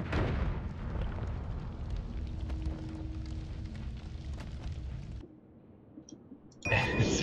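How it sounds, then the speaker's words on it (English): Bomb explosions in the Noita video game rumble as a long, dense, low roar of blasts and crackling debris that cuts out abruptly, followed by faint pings and a sudden fresh burst. "It's more bombs."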